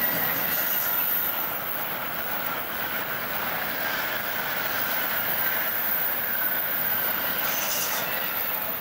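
A Shinkansen bullet train in Japan passes at a steady distance as a continuous broadband rush with a faint high whine, holding level for several seconds with no talk.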